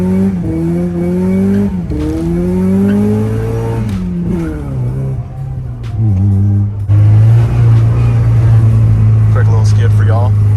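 A welded-differential Mazda Miata drifts, its engine revving up and down in steady surges while tires squeal near the end; loud and close, with voices talking over it.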